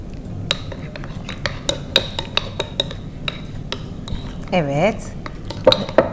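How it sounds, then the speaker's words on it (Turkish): A spoon stirs a mixture with agave syrup in a bowl, tapping and clinking against the sides in quick irregular strikes, close by, with a brief spoken word and a scrape near the end. "Kattığımız agave şurubunun ardından bunu karıştırıyoruz güzelce."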